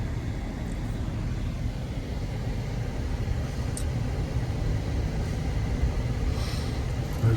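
A car cruising along a road beside a bayou, with steady, fairly loud engine and tire rumble from inside the vehicle throughout, no talking.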